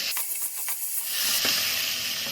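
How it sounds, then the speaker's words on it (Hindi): Long-sliced onions hit a hot pan with a loud, close hiss that swells into a steady frying sizzle over a couple of seconds. "लंबे कटे हुए प्याज डालेंगे। अब इन्हें 2-3 मिनट अच्छे से भून लेंगे।"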